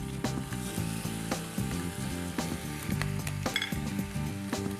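Bacon fries in a pan in a cooking-show kitchen, giving a constant bright sizzle with crackling pops throughout and tonal background music underneath.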